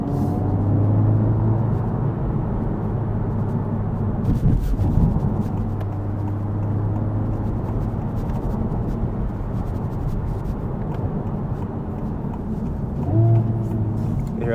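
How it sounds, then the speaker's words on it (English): A 2023 Honda Civic Type R downshifting in Plus R mode, a loud steady engine roar that swells briefly mid-clip and again near the end, heard from inside the car. "the downshift is significantly louder"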